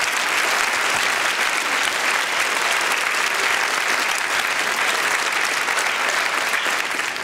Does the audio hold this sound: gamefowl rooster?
no